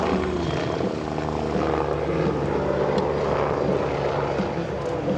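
A propeller aerobatic airplane drones steadily and loudly overhead at an air show, a continuous buzzing roar with no pauses.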